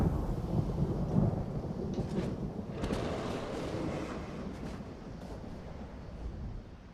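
Rumbling thunder rolls through a thunderstorm in the video game Skyrim, a steady low roar with soft rain hiss, holding fairly even for the whole stretch before easing off at the end.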